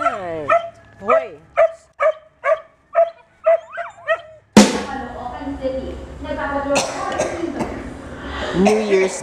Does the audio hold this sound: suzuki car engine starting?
no